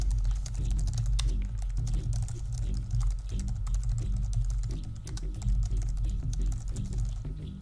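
Several people typing on computer keyboards during an online voice session, a steady stream of soft clicks and key taps over a low hum, continuous and fairly faint with no talking.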